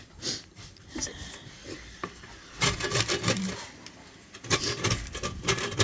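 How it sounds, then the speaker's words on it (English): A bar of soap grated with a hand grater for homemade liquid laundry soap, producing irregular close rasping scrapes in short bursts with brief gaps in between and no talking. "we just take this grater and then just start grating the soap into"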